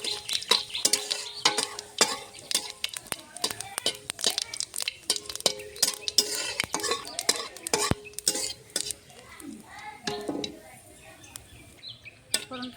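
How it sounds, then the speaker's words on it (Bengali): Dried red chilli and whole cumin tempering in hot oil, with quick metallic clicks and scrapes of a spoon stirring in the pan over a soft crackle, close by. "এখন দিয়ে দেবো শুকনো লঙ্কা একটা আর গোটা জিরে ফোড়নে।"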